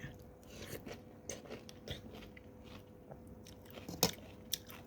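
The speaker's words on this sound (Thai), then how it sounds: "เราก็กินแกงหน่อไม้" Someone eating Thai bamboo shoot curry, with close, intermittent soft bites and chewing and one sharper crunch near the end, no talking.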